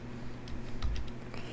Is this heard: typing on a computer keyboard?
yes